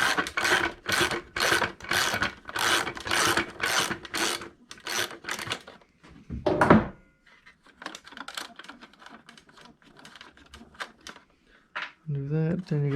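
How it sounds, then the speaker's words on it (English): A ratchet loosens the tail light bolts on a Honda Grom motorcycle, giving rapid rhythmic clicking bursts up close, then scattered lighter clicks and handling noises with a short voice near the end. "Gotta undo these two bolts."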